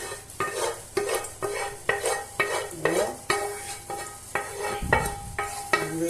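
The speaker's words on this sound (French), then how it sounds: "Après avoir fini de farcir nos choux, on va renverser notre sauce tomate." Stirring and spooning sounds as tomato sauce is spread over stuffed cabbages in a pan, with a regular series of soft scraping strokes roughly every half second, close and fairly loud.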